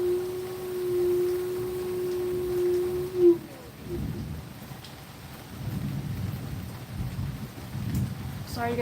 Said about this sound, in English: Sorry you're gonna miss the rest of the storm.